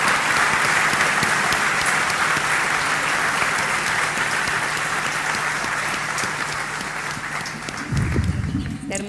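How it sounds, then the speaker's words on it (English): Audience applause for members of a technology panel, a sustained, dense round of clapping filling the hall steadily for about nine seconds, easing slightly near the end. "there's a warm round of applause for the panel members"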